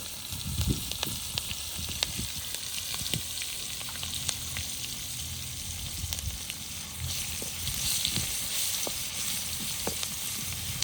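Curry leaves, garlic and green chilli fry in a pan with a steady, hissing sizzle and scattered sharp pops, heard alone at a fairly close, even level.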